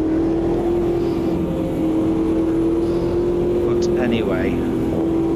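An Ultima GTR race car engine in the racing game Automobilista 2 holds a steady, loud drone throughout, with a brief shift in pitch near the end, while someone talks over it.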